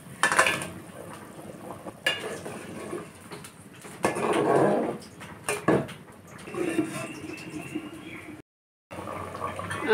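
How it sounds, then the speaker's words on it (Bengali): Fried fish is tipped from a container into a pot of thin fish curry with drumstick and potato, bringing clinks of metal, a splashing pour and bubbling, with a brief dropout near the end. "এবার ভেজে রাখা মাছটাকে ঢেলে দেব।"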